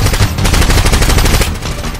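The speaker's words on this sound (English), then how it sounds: "I brought my airsoft gun." Rapid automatic bursts from an airsoft gun, loud and continuous for about two seconds in a dense rattling stream with no talk over it.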